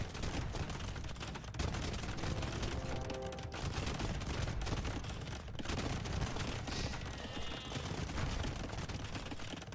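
Bombard cannons firing in an Age of Empires 3v3 league match, a dense barrage of booming shots and blasts layered over constant battle din, loud and continuous.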